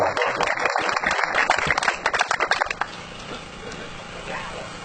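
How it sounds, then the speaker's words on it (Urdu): An audience at a PTI workers convention in Pakistan gives a speaker a welcoming round of applause. Dense, close clapping is heard at first, then it thins out into scattered claps and room noise. "زوردار تالیوں سے میں خوش آمدید کہیں"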